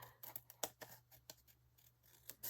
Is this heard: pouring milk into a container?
no